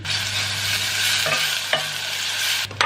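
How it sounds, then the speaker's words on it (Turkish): Chopped onion sizzles steadily in hot oil, close up, with a spoon scraping and stirring through it now and then. "Şimdi yağı koydum. Biraz ısındı. Soğanı da ekliyorum."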